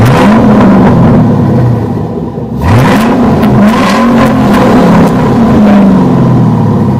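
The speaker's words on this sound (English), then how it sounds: "Give it a little rev." A 2005 Ford Mustang GT V8 revs loudly and close by, with several rising and falling throttle blips over a steady rumbling idle and no talking.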